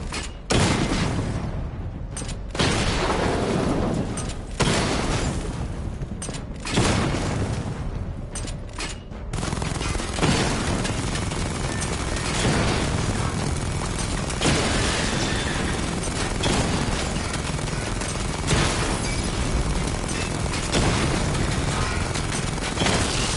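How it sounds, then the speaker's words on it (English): A Batmobile missile barrage in the video game Batman: Arkham Knight sets off a rapid string of loud booming explosions, several sharp blasts early on giving way to a dense, continuous roar of detonations and rumble. "Charge the missile barrage to level 2 to destroy up to 4 targets at once."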